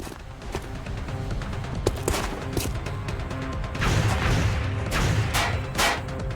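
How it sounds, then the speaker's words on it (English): Heavy gunfire in the XCOM Enemy Within video game, a sustained clatter of shots and booming impacts rolling on for several seconds, dense and loud with sharp cracks punching through. "There's heavy fire in the zone."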